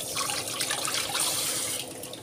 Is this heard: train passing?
no